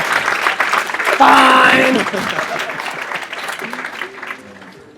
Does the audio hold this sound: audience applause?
yes